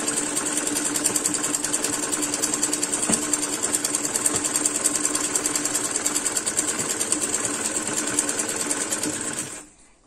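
A sewing machine stitches a belt with a steady, fast, buzzing clatter that runs unbroken at close range and then stops abruptly just before the end.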